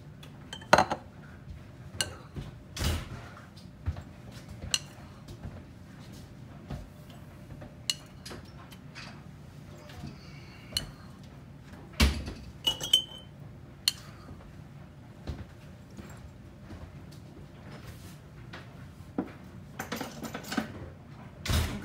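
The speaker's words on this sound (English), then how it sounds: "I'm going to add a teaspoon of lemon juice to each jar to the bottom" Small glass canning jars clink and tap sharply against one another and the counter while lemon juice goes in for home-canned peaches, scattered irregular knocks at close range with quiet pauses between.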